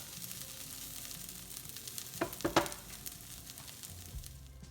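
Onions and sweet potato frying over high heat in a pan, caramelizing with a soft, steady sizzle, interrupted by a few louder crackles and stirring scrapes near the middle, no talking.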